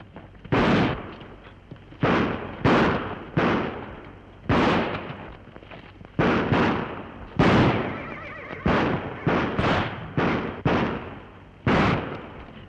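Gunfire in a 1936 western film rings out as about a dozen loud, sharp shots with echoing tails, fired irregularly in clusters and singles, with no talking between them.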